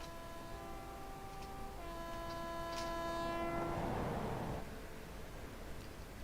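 A locomotive in the Train Simulator 2021 video game sounds a long, loud, multi-tone horn blast, followed by a swell of rolling rail rumble, with no talk.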